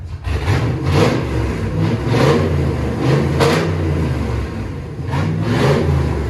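A deep V8 exhaust from a 1993 Ford F150 Lightning with a 5.8L Windsor engine, true duals and straight pipes, burbles close by and revs repeatedly in short surges, its loud, rough rumble continuing between throttle blips.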